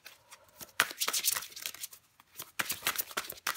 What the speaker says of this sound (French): je prends encore une carte pour vous, les Verseaux